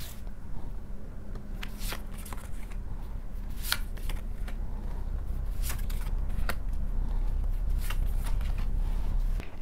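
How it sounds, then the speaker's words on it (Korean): Tarot cards shuffled and drawn at close range, with intermittent crisp snaps and slides over a steady low background hum, continuing without any voice. "카드 조금만 더 뽑아 볼게요."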